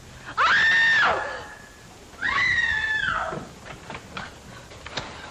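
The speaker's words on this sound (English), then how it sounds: "Who screamed?" A woman lets out two long, loud, piercing screams in a 1944 mystery film, followed by fainter scuffling and knocks.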